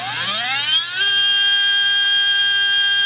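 SpeedZone Evolution 17.5 brushless RC motor on a Loadmaster, spinning up with a rising whine that settles into a loud, steady high-pitched tone, close and alone.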